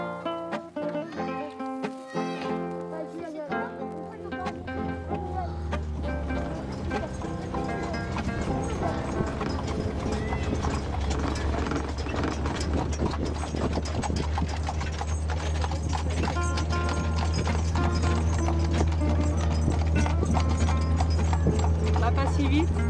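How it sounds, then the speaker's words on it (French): Horses walk along with steady clip-clopping hooves, rhythmic and moderately close, under ongoing vehicle rumble and people talking. "Ralentis si tu veux les voir un peu les chevaux."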